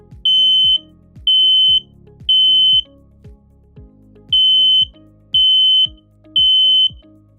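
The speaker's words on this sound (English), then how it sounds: "The alarm will sound. The alarm is loud." An SC5 hardwired smart smoke and carbon monoxide alarm under test sounds loud, piercing beeps in two sets of three, evenly spaced with a pause between sets, over a soft repeating clicking.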